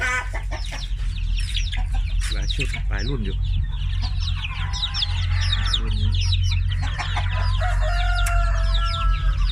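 Chickens on a farm, breeding roosters and hens, clucking and crowing repeatedly close by over a steady low hum, while someone talks intermittently.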